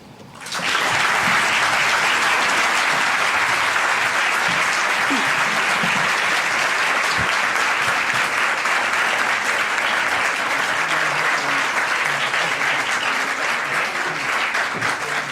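After a university keynote lecture, an audience breaks into applause that starts abruptly and then holds as a loud, dense, unbroken wash of clapping for many seconds.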